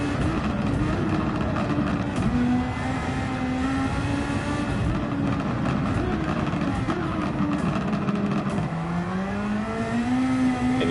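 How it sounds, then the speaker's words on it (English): A Honda-powered V6 race car engine in the GPL racing game holds a high, continuous drone, its pitch sliding up and down through gear changes and revs, steady and fairly loud with no talk. "The V6 of this Honda-powered car right here,"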